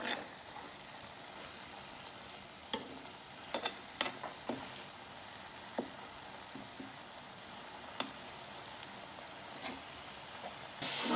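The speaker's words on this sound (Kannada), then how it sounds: "ಫ್ರೈ ಆಗಿದೆ ಈಗ ಚೆನ್ನಾಗಿ" Onion, tomato and capsicum frying in a pan for paneer butter masala, a quiet, steady sizzle broken by sharp clicks and scrapes from stirring at irregular intervals, close by with no speech.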